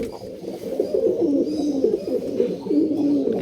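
Male pigeons in a home loft in Kolkata coo in a continuous low, throaty, rolling chorus, close by and steady, with no talking over it.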